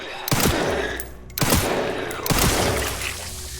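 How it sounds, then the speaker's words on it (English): Gunfire from Resident Evil Requiem, three loud, sharp shots spaced roughly a second apart, each ending in a short ringing tail over an ambient game backdrop. "I'm gonna shoot him without using the acid and see how many bullets it takes"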